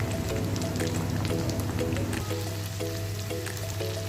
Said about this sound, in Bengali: এরপর এর মধ্যে দিয়ে দেবো কুচিয়ে রাখা টমেটো